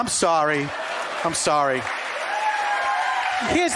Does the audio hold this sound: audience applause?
yes